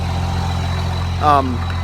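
A second-generation Dodge pickup's engine idles with a deep, steady rumble throughout, and a short voice sound rises briefly over it near the end.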